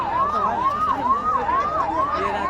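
Fire brigade truck siren wailing steadily at a burning garbage heap near a college in Madhubani, Bihar, its rising and falling tone cycling loud and continuous with faint background bustle.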